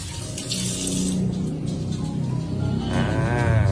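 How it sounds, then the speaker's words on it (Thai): Hands are washed under a running tap, a steady close splash of water that shifts in tone as the hands move through the stream, with no talk over it. "เดี๋ยวไปล้างมือก่อน"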